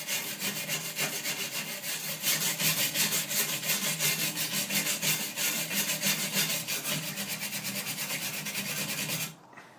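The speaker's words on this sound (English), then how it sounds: "Get your wire brush, just clean it, clean the edges you're going to be attaching the putty to." A wire brush scrubs the edges of a steel window frame, giving a steady, close, continuous rasping scrape with rhythmic strokes that stops abruptly near the end.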